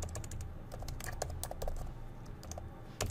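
Rapid, uneven keystrokes on a computer keyboard while C++ code is entered, clicks clattering close and steady for a few seconds without speech.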